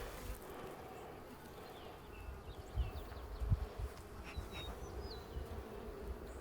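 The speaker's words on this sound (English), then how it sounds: "these are gentle bees" Honey bees buzz continuously in a steady drone during a nuc installation on a farm, with some passing closer now and then, against outdoor background noise.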